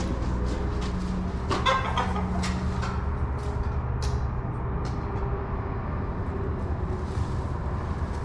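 Chickens in an unheated barn cluck and squawk in short, scattered bursts over a low steady mechanical hum, fairly close and moderate in volume.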